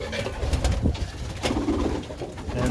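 Pigeons cooing steadily close by in a loft, low throaty calls overlapping in a continuous murmur with some rustling.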